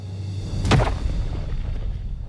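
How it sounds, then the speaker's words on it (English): A single rifle shot fired at an elk during a Colorado hunt, a sharp close boom that rolls out over open country, preceded by a low steady hum and followed by a lingering outdoor rumble. "Mark made a phenomenal shot on him"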